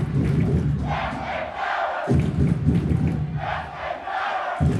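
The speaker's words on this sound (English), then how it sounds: "As the crowd chants SK Power" Basketball crowd in a high school gym chanting in rhythmic waves, loud massed voices rising and falling in repeated bursts.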